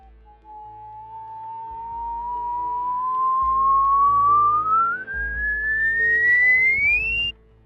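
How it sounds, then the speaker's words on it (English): A single person whistles one long, steady tone that glides smoothly from low to high pitch over about seven seconds, growing louder as it rises, clear and close with no other sounds. "as I whistle from a low pitch to a high pitch and increase volume as I go up"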